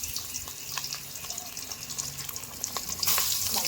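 Tiger prawns hit hot oil in a home kitchen pan, giving a steady close wet crackle and hiss that swells louder near the end, with no talking.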